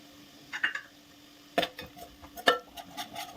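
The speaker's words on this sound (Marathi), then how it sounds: "मसाला छान भाजून घेऊया" Spice masala of coriander powder, mutton masala and red chili powder roasting with onion in a pan for Kokani-style mutton curry, with sparse spoon scrapes and taps against the pan and a faint background hum.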